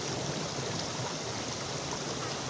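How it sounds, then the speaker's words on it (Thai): A small waterfall and stream runs beside a house, a close, steady rushing of water that stays even and unbroken, with no voices. "เป็นน้ำตก ขนาดย่อมๆนะฮะ ให้เด็กๆได้มาเล่นกัน"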